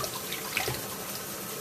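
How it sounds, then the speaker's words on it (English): Lukewarm tap water runs steadily into a container of rice, a continuous close splashing rush without breaks or voices. "I'm just gonna turn on the water again."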